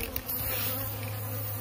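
Bees buzz inside a wine barrel, a steady low droning hum heard close and fairly faint with a short bump near the start, no voices.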